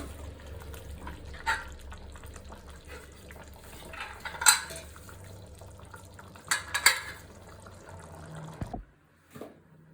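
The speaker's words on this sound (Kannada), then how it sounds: "ಸೊ ನಾವು ಇವಾಗ ಕುಕ್ಕರ್ನ ಮುಸ್ತಾ ಇದ್ದೀವಿ" A pressure cooker holding chicken biryani gets its lid closed, with metallic clanks and clatters at a few moments over a low background hum, then a final thud before silence.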